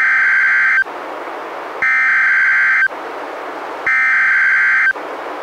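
NOAA Weather Radio emergency alert tone for tornado, severe thunderstorm and marine warnings in northwestern Oregon: three loud, steady, shrill one-second beeps in an even on-off pattern, each followed by a quieter broadband hiss, with no speech.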